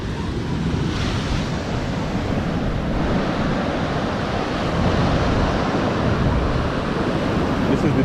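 Ocean surf rolling onto a beach front in Ghana, a steady dense wash of waves mixed with wind buffeting the microphone, loud and continuous without speech.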